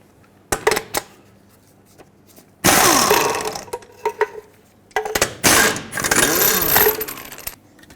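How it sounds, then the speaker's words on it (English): Wrench or impact work spinning off the six lug nuts on a 1996-2002 Toyota 4Runner front wheel, heard as two long, loud bursts of ratcheting metal with shorter clicks and clanks between them. "remove all 6 of your lug nuts, and then we'll remove the wheel"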